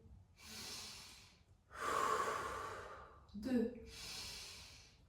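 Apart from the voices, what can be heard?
breathing through the nose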